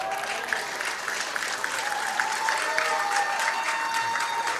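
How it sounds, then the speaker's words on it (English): Sustained applause from a crowd of Philippine fans at a world championship pool team final, dense steady clapping that builds slightly toward the end with no talk over it. "And the crowd getting into it."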